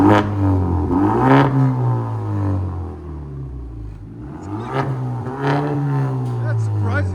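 A 2020 Genesis G70 2.0L turbo with a muffler delete revs its exhaust in two bursts, a deep droning blat rising and falling, loud and close, with people talking over it.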